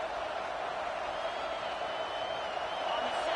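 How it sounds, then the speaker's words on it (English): A steady, dense roar of a large crowd fills the space, unbroken and fairly loud throughout, with no distinct voices standing out. "It's early, but this crowd is fired up. Listen to this noise here."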